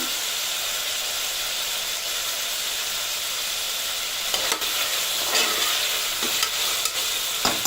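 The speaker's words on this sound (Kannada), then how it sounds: "ಸ್ವಲ್ಪ ಟೊಮೆಟೊ ಬೇಯಲಿ" Tomatoes cook in a pan for Salem-style chicken curry, a steady hiss and sizzle running throughout with a few louder stirring clatters near the end, no talk.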